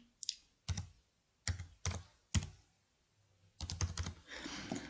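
Number being typed on a computer keyboard, a few quick key clicks in small bursts separated by short pauses, close and quiet, with a slightly louder flurry of taps at the end.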